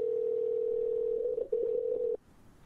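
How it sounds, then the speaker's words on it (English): A steady, loud telephone dial tone hums for about two seconds before calling a podcast interview guest, briefly wavering, then cutting off abruptly into quiet line noise. "let's get Jonathan on the phone."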